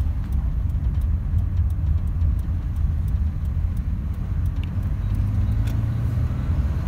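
Low, continuous road rumble and engine hum inside a moving car around Karditsa, steady and close throughout, with faint ticking above it and no talk.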